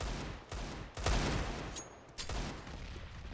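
Rapid MAC-10 submachine gun bursts in a Counter-Strike match on the Mirage map, with loud overlapping volleys in short pulses over steady game ambience.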